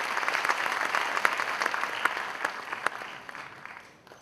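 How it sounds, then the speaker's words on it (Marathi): Audience applause at an awards ceremony for Shekhar Sen, a dense steady clapping from a large hall crowd that carries evenly for about four seconds, then begins to fade at the end. "श्रीयुत शेखर सेन यांच्यासाठी आपण एकदा जोरदार टाळ्या वाजवूया।"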